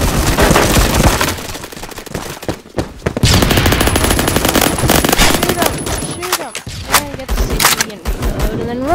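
Automatic gunfire in the Roblox game Phantom Forces, loud, dense bursts of rapid shots filling most of the stretch with brief pauses, a voice shouting over the shooting.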